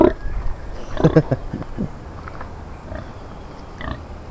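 A pig grunts and oinks in short bursts close by, loudest early on, followed by quieter snorts against outdoor background noise.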